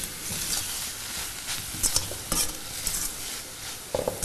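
Food stirred in a sizzling frying pan, a steady hiss of frying with several sharper scrapes and clatters of the spoon against the pan, close and fairly quiet, with no talking.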